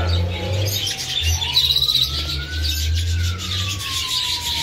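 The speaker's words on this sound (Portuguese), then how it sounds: "Casal de Red Ramped, macho opalino verde e fêmea opalina azul." A pair of red-rumped parrots, an opaline green male and an opaline blue female, in a pet and farm supply shop, giving short, bright chirps over a rumbling background with a long, rising and falling whistle-like tone.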